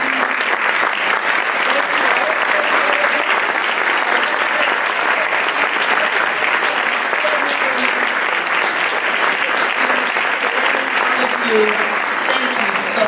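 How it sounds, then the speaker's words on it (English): Sustained, loud applause from a large audience at the Urban League of Greater Atlanta annual meeting, steady dense clapping filling the room for over ten seconds, with voices murmuring underneath. "please give them a warm, warm round of applause"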